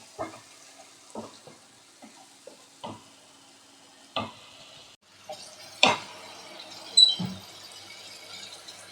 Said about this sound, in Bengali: এবার আমি এখানে বেটে রেখেছি ধনেপাতা, শুকনো লঙ্কা আর কাঁচা লঙ্কা আর একটু সর্ষে, এটা আমি বেটে রেখেছি, এটা আমি দিয়ে দিলাম।